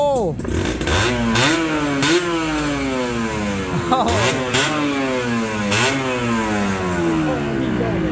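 A two-stroke Serpico SE98 motorcycle engine, about 25 years old and never opened up, fires up and revs repeatedly, pitch rising and falling in several loud blips, up close, with voices talking over it.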